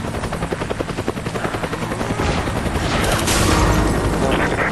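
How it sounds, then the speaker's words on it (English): Gunfire in the video game Resident Evil 5 Versus mode, rapid repeated shots with a loud, dense rumbling roar building up, no talking. "hear gunfire"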